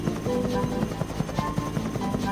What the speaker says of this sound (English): The fastest way to find James is to fly Harold the helicopter over the island.